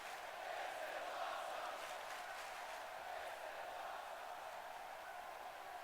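Crowd roar from a wrestling arena in the WWE 2K18 video game, a steady, broad wash of cheering that holds level for several seconds with no voices over it.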